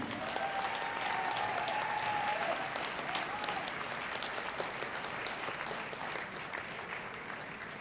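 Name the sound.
audience applause for a hall of fame inductee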